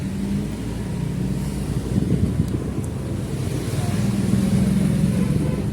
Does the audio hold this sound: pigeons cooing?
no